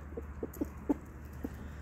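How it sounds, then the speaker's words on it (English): Chickens and a rooster in a backyard flock of egg layers give a handful of short, soft clucks spread unevenly over a steady low background hum, close by with no talking. "Oh, what a handsome rooster and chickens."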